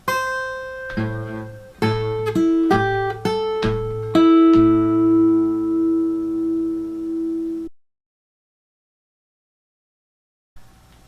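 Plucked acoustic guitar notes ring out in a short blues phrase in A, a few quick attacks followed by a long sustained bent note that fades, then silence.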